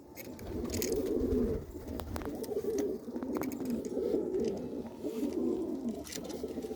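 Several pigeons coo softly and continuously at close range, their low, rolling calls overlapping in gentle waves with a few brief clicks and rustles between them.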